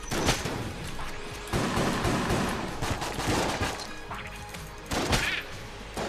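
Repeated shotgun blasts and a flurry of gunfire in the Enter the Gungeon video game, loud bursts with crashing impacts that come in clusters over a steady barrage, with no talking.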